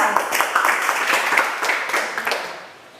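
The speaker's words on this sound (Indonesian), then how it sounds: "Tepuk tangan untuk kelompok 2." Brief applause from a classroom full of students for a student group, a close, busy patter of hand claps that tapers off and fades out after about three seconds.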